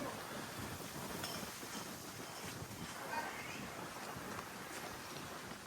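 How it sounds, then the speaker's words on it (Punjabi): Wind blows steadily across the microphone, a low continuous rushing roar with faint outdoor noise and no clear speech. "ਚਾਰੇ ਪਾਸੇ ਹਵਾ ਚੱਲਦੀ ਆ ਠੰਡੀ ਠੰਡੀ"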